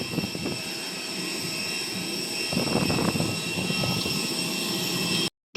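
Steady aircraft engine drone beside a plane at a Bohol airport, continuous and fairly loud for several seconds, cutting off abruptly at the end with no talking over it.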